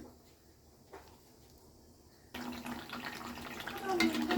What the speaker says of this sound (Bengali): একটু সামান্য আমি জল দিয়ে নিচ্ছি।